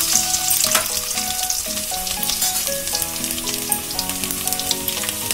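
Chopped garlic fries in hot refined oil for soyabean meal maker chow mein, giving a steady, close crackling sizzle with tonal music running underneath throughout.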